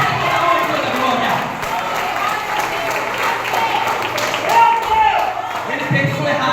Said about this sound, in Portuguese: Pode aplaudir o nome dele